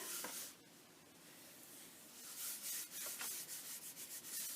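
Paper is rubbed by hand onto a gel printing plate coated with paint, giving a soft, close, continuous scuffing with rhythmic swipes toward the end, faint and with no talk.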